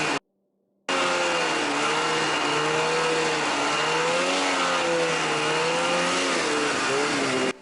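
A snowmobile engine drones loud and close, its pitch rising and falling as the throttle is repeatedly blipped, after a brief silent gap at the start.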